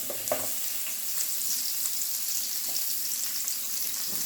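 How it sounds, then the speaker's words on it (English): Onions hitting an already smoking hot pan for a hashbrown omelette, a loud, steady, hissing sizzle that holds throughout, with a few light knocks near the start. "So I'm going to add my onions"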